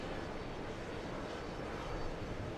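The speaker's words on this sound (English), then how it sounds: "A340 is getting closer for takeoff." An Airbus A340 jet at JFK airport roars steadily as it readies for takeoff, a broad, constant engine rumble heard at a distance without voices.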